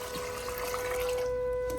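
Water trickles and pours over freshly fried peanuts in a pan while salted peanuts are being made, a steady close liquid wash running for about two seconds with no talking.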